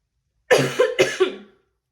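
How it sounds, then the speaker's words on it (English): Two sharp coughs in quick succession, close and fairly loud, with a brief pause between them and silence before and after. "Hold on, I'm gonna cough."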